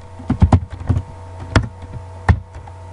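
Keys clack out on a computer keyboard while a command is typed to configure SSH on a Cisco router, several separate close taps in an uneven rhythm over a steady background hum.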